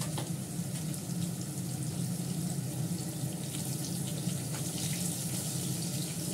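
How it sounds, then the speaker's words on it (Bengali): Liquid, milk and water, running steadily into a cooking pan, a continuous close pouring and splashing wash with faint sizzle beneath, no voices. "দুধ জল দিয়ে দিয়েছি"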